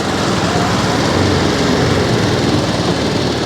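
A motorbike engine runs with a continuous, loud drone and a buzzing roar, steady throughout, heard up close on a ride in Amarkantak.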